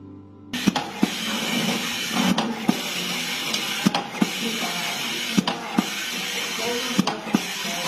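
A tabletop automatic screw-tightening machine drives screws in a steady rhythmic cycle, each sharp click or clack landing about every second and a half over a continuous whirring hiss, close and loud with no talk.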